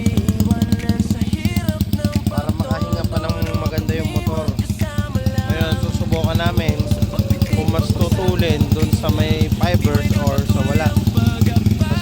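A motorcycle with its exhaust pipe removed runs steadily after tuning, a loud, raw, rapid rattling engine note with rises and falls in revs, close by and filling the whole clip.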